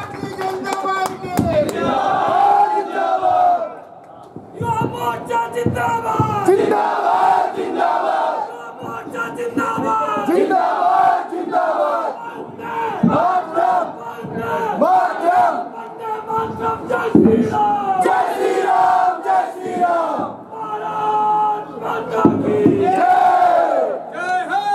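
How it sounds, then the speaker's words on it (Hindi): A large political rally crowd at a BJP event in Nathdwara, India, erupts in loud, sustained cheering and shouting to welcome a speaker, a dense roar of many voices that swells and dips throughout. "जोरदार तालियों से स्वागत"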